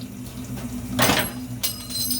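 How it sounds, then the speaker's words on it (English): Water from a tap runs steadily at a sink while hands are washed in the kitchen, with a couple of brief splashy bursts over the soft continuous flow. "let me wash my hands once again"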